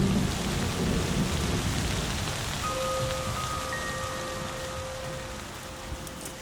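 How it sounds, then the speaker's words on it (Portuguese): Steady rain pours down with a deep rolling rumble of thunder underneath over the savanna of Kruger National Park, South Africa, fading slightly toward the end. "Conforme as estações avançam, as chuvas retornam."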